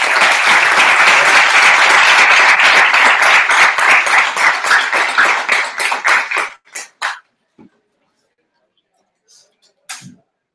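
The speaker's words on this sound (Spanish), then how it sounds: "Un fuerte aplauso." An audience at a training session breaks into loud, dense applause that holds for several seconds, then thins into scattered individual claps and stops, leaving silence with a brief faint sound at the end.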